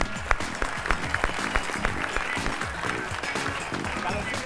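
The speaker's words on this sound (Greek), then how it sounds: "θέλω να δώσετε ένα πολύ δυνατό χειροκρότημα" Studio audience applauding a game show contestant as he is welcomed onto a quiz show, steady dense clapping with some cheering and low voices mixed in throughout.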